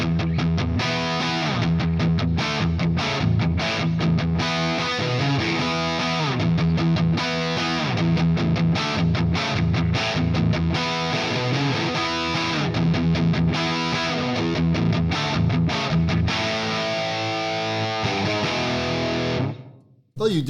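Electric guitar playing a 1970s rock riff with distorted, reverb-soaked tone, loud and continuous, with rhythmic chugging and sustained chords for about nineteen seconds before an abrupt stop.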